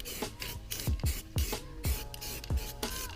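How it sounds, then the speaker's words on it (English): A spray can applies heat protective paint to a welded exhaust brace on a Volvo in about seven short, close, evenly spaced hissing bursts, each with a sharp onset. "But now it needs a little bit of heat protective paint."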